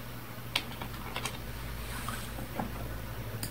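Scattered keystrokes on a computer keyboard enter a value into an Excel cell, light clicks spaced irregularly over a steady low hum, close and quiet.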